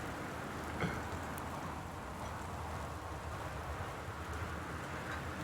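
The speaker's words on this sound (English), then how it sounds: "The rain sounds are in stereo." Steady stereo rain falling in the Gone Home video game, a dense continuous hiss at even loudness throughout with no distinct drops or thunder standing out.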